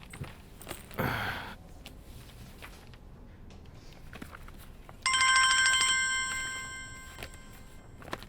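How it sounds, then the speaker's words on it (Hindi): A telephone ringing indoors with a bright electronic trill that starts partway through and repeats steadily, fading slightly, after an earlier brief ding and some quiet background sounds. "फोन बज रहा है"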